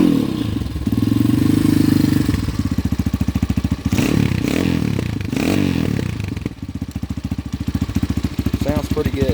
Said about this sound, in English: I'll go ahead and fire it up real quick just so you can hear the exhaust